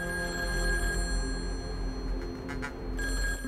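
A telephone rings in the hidden-object game Rite of Passage 7: Sword and Fury, a steady electronic ring over a constant hum of background game music.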